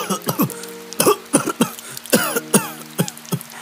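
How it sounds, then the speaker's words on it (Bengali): A person in a drama coughs repeatedly in a string of short, harsh, close bursts, about ten in under four seconds, with no other sound. "এমন সময় কাশি শব্দ শুনতে পেলাম।"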